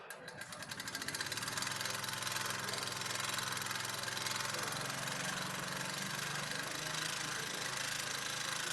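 Wood lathe turning a hollow form at about 1,500 RPM while the inside is shear-scraped, giving a steady, loud mechanical hum with a continuous scraping hiss that ramps up in the first second, then holds constant.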